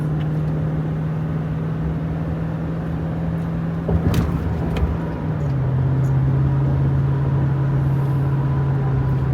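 A car drives across the Ringling Bridge into downtown Sarasota, its cabin filled with a steady engine drone and road hum that shifts pitch partway through, plus a brief bump of tire noise.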